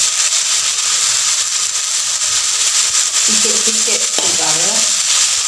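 Golden onions and ginger garlic paste fry in a pan with a loud, continuous sizzle and hiss, while someone speaks briefly over the cooking toward the end.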